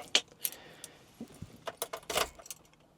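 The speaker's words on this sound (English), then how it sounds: "record me putting the key in the ignition and turning it" Car keys jangle and clink close by as a key goes into the ignition of an Infiniti G20 with an SR20VE engine, with a few short metallic rattles and a louder burst near the end, and no talk.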